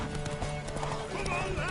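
A horse gallops in The Witcher video game, hooves clopping quickly and steadily in the foreground. Voices and a neigh sound over the hoofbeats.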